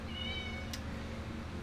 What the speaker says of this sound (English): you gotta meow when I'm recording